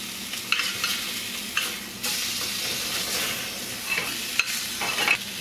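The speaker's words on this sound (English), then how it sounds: "You're gonna wanna get all 4 sides nice and seared" Food sears in a hot pan, a continuous loud sizzle with scraping and stirring bursts as pieces are turned on all sides, no talk.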